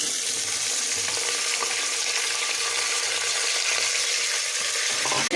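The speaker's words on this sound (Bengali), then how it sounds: "ভালো করে নাড়াচাড়া করা হচ্ছে।" Potatoes with nigella seeds, green chilli and mango cooking in oil in a pressure cooker, a continuous sizzle and hiss with soft scraping of stirring underneath, no talk.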